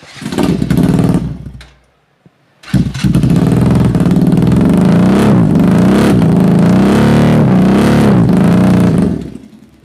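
A 300cc sports motorcycle engine revs loudly and close, a short burst, a brief pause, then a long sustained roar with rising and falling revs before cutting off.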